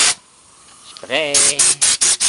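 An aerosol can of Fluid Film rust-proofing spray released in several short, loud hissing bursts, close by, following a quieter stretch with a brief tonal squeak.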